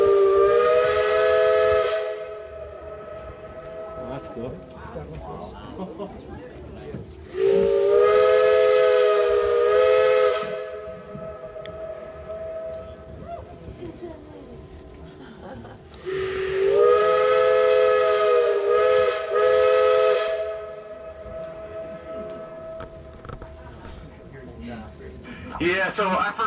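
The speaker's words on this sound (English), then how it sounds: "you can actually hear this whistle about 10 miles up and down this gulch here" A steam train whistle echoing through Echo Valley near Cripple Creek, three long loud blasts ringing and reverberating down the gulch with hissing steam between them, while a person speaks briefly.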